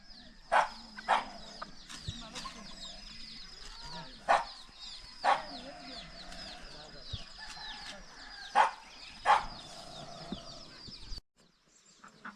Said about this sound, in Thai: นี่จะเป็นเล้า ไก่เล้าเป็ด